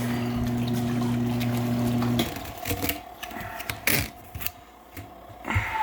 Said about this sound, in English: So you can see that just drains in the sink.